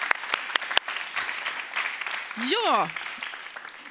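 Seminar audience applauding to welcome a panel, a steady wash of clapping from many hands with a few sharper claps near the start, and a brief spoken word over it.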